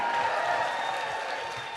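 A large audience at a Tennessee Democratic Party evening event applauds steadily, a dense wash of clapping that stays loud and even throughout.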